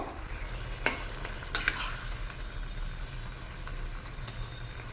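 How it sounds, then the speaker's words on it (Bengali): Fried shrimp and jackfruit seeds sizzle softly in a pan while they are stirred, with a few sharp clinks of the spoon against the metal over a low, steady hum. "খুব ভালো করে মিষ্টিমুনি মাছের সঙ্গে কাঁঠাল দানা মিশিয়ে দেবো"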